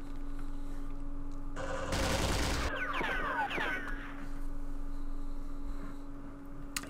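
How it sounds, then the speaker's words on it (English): Anti-aircraft machine gun fire in a Vietnam war strategy game: a dense, loud burst of rapid shots followed by several whistling, sweeping tones, set over a steady low hum with no talking. "Oh, there's the anti-aircraft machine gun there."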